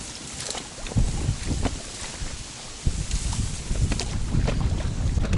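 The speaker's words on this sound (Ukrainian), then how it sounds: "Вітер сьогодні дуже сильний, подекуди шквальний." Strong wind buffets the microphone in gusts, with a roaring rush and splashing water noise around a small fishing boat on a pond.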